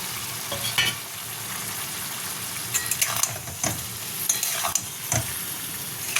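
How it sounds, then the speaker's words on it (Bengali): Potatoes and chicken browning with salt, green chilli, chilli powder and turmeric in a hot pan, a steady close sizzle broken by scraping stirs and a few sharp clinks of a spatula. "শুধু কষা গরমে মানে কষতে কষতে সেদ্ধ করতে হবে"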